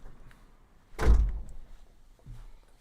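A door is opened with a single heavy thunk near the middle, then a quieter knock follows in an otherwise quiet room.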